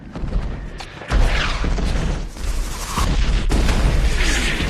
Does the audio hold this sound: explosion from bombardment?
yes